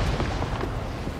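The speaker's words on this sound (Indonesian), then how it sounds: "Meledak deh rupanya AT-5T nya." An AT-ST walker blowing up in Star Wars Jedi Survivor: a dense, rumbling explosion burst that fills the short moment with low booming noise, fairly quiet overall and without speech.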